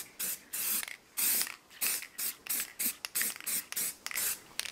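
Short bursts of spray paint hiss from an aerosol can onto car wheels, about a dozen quick sprays in an uneven rhythm, close and crisp.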